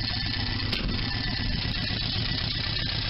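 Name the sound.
Sunbeam Alpine engine idling at operating temperature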